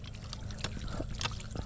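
Water pours steadily from a hand pump at a picnic spot in a Bulacan tree plantation, a close, continuous trickling splash with a few louder gushes and no talking.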